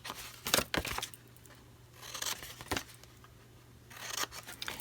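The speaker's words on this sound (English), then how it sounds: "now we're going to take our scissors and just cut up to the score line." Scissors cutting through a paper box up to a score line, three bursts of crisp snipping and crinkling separated by brief pauses, close and quiet with no talking.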